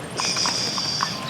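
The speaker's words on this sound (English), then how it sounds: "there's a horse crossing. We gotta always stop for the horses." Horse hooves clip-clopping across a street, a few soft, moderately near steps over a steady background hum.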